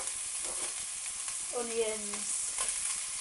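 Thinly sliced chicken and vegetables, including pepper, onion, courgette and mushrooms, stir-fry in a pan with a steady close sizzle, a brief squeaky scrape of a utensil partway through.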